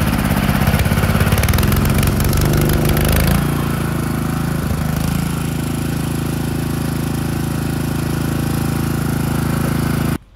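A propane-powered generator runs loud and close, a steady engine drone that turns rough and erratic as it sputters out of gas, then cuts off abruptly at the very end.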